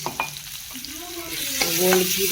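Whole black peppercorns frying in a pan make a steady, moderate sizzle, with faint tonal squeaks and a few light stirring taps over it.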